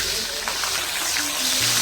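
Chili paste for sambal terasi hits hot oil that still holds some water, giving a steady close sizzle and spatter that runs through the whole short stretch with no talk.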